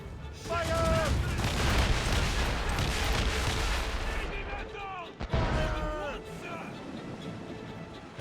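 Cannon fire booms from a ship battle in Assassin's Creed: Rogue, a dense rolling barrage of heavy blasts followed by a sharp single crack, with voices calling out amid the gunfire.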